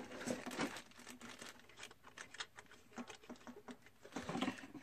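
Cardboard packaging being unfolded during an unboxing of an AEM X-Series wideband gauge, with close crinkling and rustling of cardboard and paper, irregular and fairly quiet, no talking.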